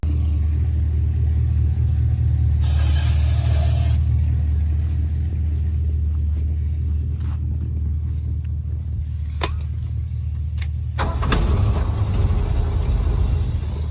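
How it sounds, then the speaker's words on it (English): A short hiss of carb cleaner spray, then scattered clicks before an old Ford truck engine catches and rumbles on, steady low idle under the clatter. "Spray a little carb cleaner in it, see if it starts up like that"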